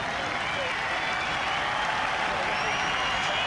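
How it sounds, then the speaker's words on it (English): Large golf gallery at St Andrews during the Open Championship, roaring and applauding as a player comes into view; a dense, continuous wash of cheering and clapping, loud and steady throughout. "He'll burst into view and the crowd will cheer."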